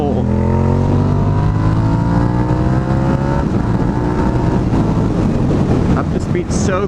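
A Suzuki SV650 motorcycle pulling hard in third gear from about 3,000 rpm, its engine note rising steadily in pitch as it accelerates, with heavy wind rush over the microphone throughout.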